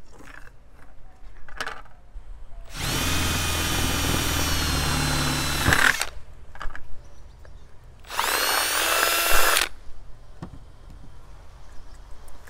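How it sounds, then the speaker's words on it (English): A power drill bores into a PVC cap resting on a table, two loud whining bursts of drilling, the first about three seconds long and the second shorter, with faint handling clicks between. "Try not to drill through the table."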